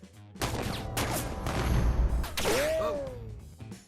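A burst of loud impacts and gunshots from the action film The Expendables 2 in a dense, chaotic sequence, followed by a ringing, whistling tone near the end.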